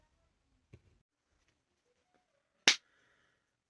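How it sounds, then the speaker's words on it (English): A single sharp hand clap, sounding like a snap, rings out loud and close in near silence, with a faint tap shortly before it; a thumb ring is worn on the clapping hand. "I went to clap my hands, and like my thumb ring"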